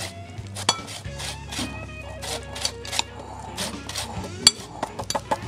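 A spoon or utensil clinks and scrapes against a bowl while ingredients for chicken and apple stuffed endive are mixed, giving irregular light taps and clatters close by over a steady low background hum.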